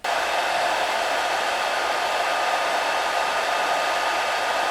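A hair dryer runs steadily and loudly on wet paint for hobby painting, a continuous close whooshing airflow with no talk.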